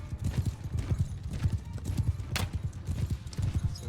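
Horse hooves galloping in the video game Mount and Blade Bannerlord 2, a fast steady rhythm of thudding hoofbeats close and continuous throughout, with a brief sharp clash partway through and no talking.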